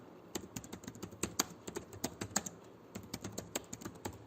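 Keys are typed on a computer keyboard in a steady burst of close, crisp clicks with a brief pause partway through. The room is otherwise quiet.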